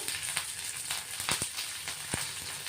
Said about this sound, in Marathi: त्याच्यातच आपण आता कढीपत्ता टाकून घेतोय, मस्त तेलात परतून घेऊ कढीपत्ता पण